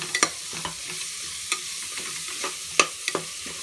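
Finely chopped green chilies stirred into hot oil with ginger-garlic paste for mutton biryani, a soft steady sizzle broken by sharp scraping ladle clicks and taps at irregular intervals, close and fairly quiet.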